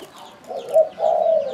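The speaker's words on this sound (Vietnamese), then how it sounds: "Nói chung con chim này là nó mở miệng lên là nó hay gù." A spotted dove coos up close, a loud, low, rounded call that swells twice within a moment, alone without any talking.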